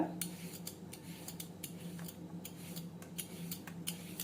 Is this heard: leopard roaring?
no